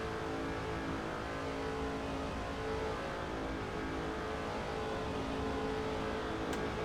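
Stock cars racing in NASCAR 06 at the 2005 Budweiser Shootout, a dense continuous engine drone from the pack held at full throttle throughout, loud and unbroken.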